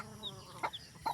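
A hen gives a few soft, short clucks close by, spaced irregularly over a quiet background.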